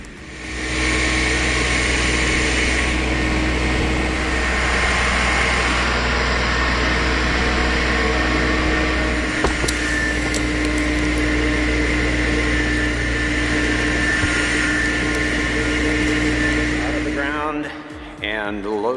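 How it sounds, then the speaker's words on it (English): Small tractor engine labouring under heavy load as it drags out a huge, deeply rooted tree stump, a steady loud drone with a low rumble and hum running nearly throughout, then dropping away abruptly near the end. "A huge tree root deeply planted against a small tractor."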